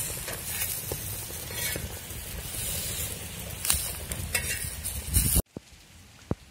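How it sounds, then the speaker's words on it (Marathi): Chillies and onion fry with turmeric on a griddle pan, a close, steady sizzle broken by scraping stirs, cutting off abruptly near the end to near silence with a couple of faint clicks. "मी मिरच्या आणि कांदा टाकलेला आहे तव्यावरती, आणि चांगलं परतून घ्यायचं आहे"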